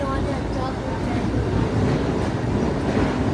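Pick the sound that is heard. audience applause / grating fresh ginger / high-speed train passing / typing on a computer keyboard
high-speed train passing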